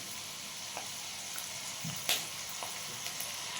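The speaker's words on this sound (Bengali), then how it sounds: "বাদামগুলো প্রায় ভাজা হয়ে গেছে।" Peanuts frying in a pan give off a soft, continuous sizzle with faint crackles and one brief louder clatter, heard fairly close and without talk.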